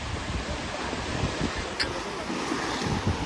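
Loud, steady rush of sea waves and surf at Alibag, India, with high water flooding a village and strong wind buffeting the microphone, continuous throughout.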